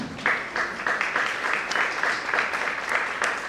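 A convention crowd in New Delhi applauds steadily during a lamp-lighting, dense clapping that holds at an even level throughout.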